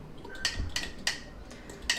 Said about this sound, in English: first you need to mix this blood with fork for a while